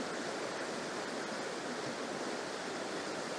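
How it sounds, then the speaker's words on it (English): River water runs over leaf-covered boulders in a small cascade on Dartmoor in autumn. It makes a steady, even rushing wash, heard alone and fairly soft. "right in the middle of the shot there's a small cascade coming"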